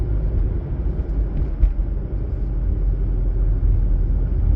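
A car accelerates along a road during a highway driving test, a steady low engine rumble and road roar filling the cabin, close and continuous, with no talking.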